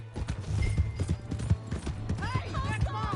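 Hoofbeats of a horse in Red Dead Redemption 2 clop in a quick, steady rhythm close by, over a low humming score, with shouted voices and a brief whinny-like cry near the end.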